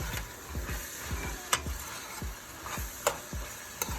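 Seasonings and a little salt being stirred through food frying in a pot, with repeated scraping stir strokes knocking against the pot over a steady close sizzle, no talking.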